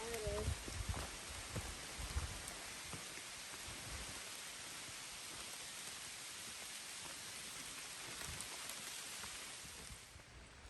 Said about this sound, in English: Alright, it's still raining.